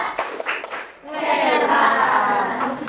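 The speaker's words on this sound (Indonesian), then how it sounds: "Ya, beri tepuk tangannya untuk teman kalian." A classroom of pupils claps for a classmate, starting with a few separate claps and then breaking into sustained, dense group clapping, with some voices mixed in.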